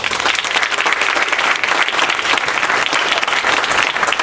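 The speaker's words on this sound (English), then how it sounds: "Let's give our honored guest a round of applause again" Loud, dense applause from a crowd honoring a guest at a women's basketball Black History Month tribute, steady and close throughout.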